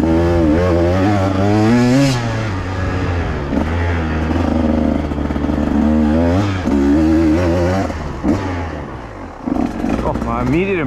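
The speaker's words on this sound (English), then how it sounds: "the first ride on a 2024 KTM 150 XCW" A 2024 KTM 150 XC-W TBI two-stroke dirt bike revs loud and close on a ride, its engine pitch swooping up and down through repeated throttle bursts with brief lulls between.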